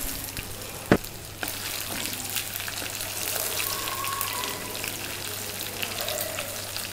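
Green chilies drop into hot oil already crackling with seasoning seeds, giving a sharp knock near the start followed by a steady, close sizzle that holds to the end, with some faint stirring.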